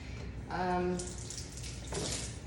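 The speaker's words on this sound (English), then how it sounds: "Just wash my hands." Water runs from a kitchen tap while hands are washed after cleaning, deveining and peeling shrimp, a steady close splash with a brief break and a short voice over the flow.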